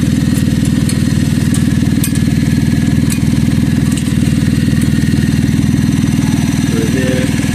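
A car exhaust whose weld has broken off runs loud, with a continuous rough rumbling drone close by and faint metallic ticks over it throughout.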